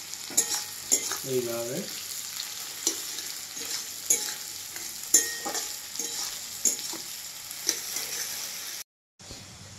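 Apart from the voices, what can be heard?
onions frying and being stirred in a pan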